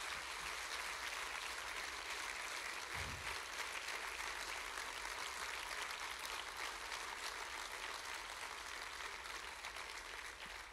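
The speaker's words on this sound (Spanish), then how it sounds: "aplauso para él, por favor" Sustained applause from an audience fills an auditorium during an inauguration event, a dense, even wash of clapping heard from a distance that continues without a break.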